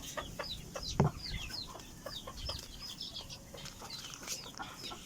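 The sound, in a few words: gamecocks clucking and flapping wings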